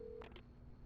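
A phone is dialed in the video game Alan Wake Remastered: a steady tone, then two quick, faint keypad beeps, heard alone.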